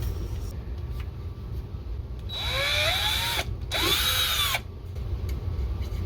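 A power drill whirs in two short bursts, its motor pitch rising and falling, over a steady low background hum.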